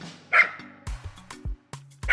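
A dog near a spring vegetable garden gives a few short, sharp barks and yips in an uneven rhythm, loud and close with brief pauses between.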